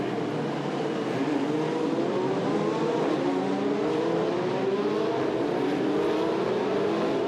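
Formula Renault Eurocup race cars scream around the Pau street circuit, several engines layered together with rising and falling pitch as they accelerate and shift, heard at a distance and continuously.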